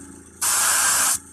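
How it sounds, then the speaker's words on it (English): An airbrush sprays paint onto a tabletop model in a steady, close hiss that starts abruptly, holds evenly for under a second, then cuts off cleanly against quiet room noise. "I'm going to start to concentrate my spray towards the top of the model."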